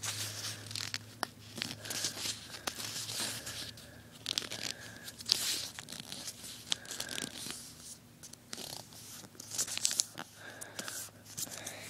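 Paper is folded and creased by hand into a paper ring, with close crinkling, rustling and sharp crackles in irregular bursts, quiet and with no talking.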